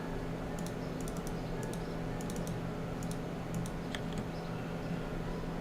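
Rapid bursts of mouse clicks while building a smeltery in a computer game, short crisp taps in quick clusters over a steady background hum.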